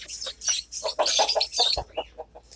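Aseel-type rooster and hen of Sindh and Larkana breed clucking and calling close by, a run of short, busy squawks and clucks with no talk over them.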